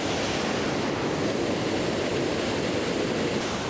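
A waterfall pours steadily close by, a dense, even rushing roar that fills the whole stretch without pause and with no voices.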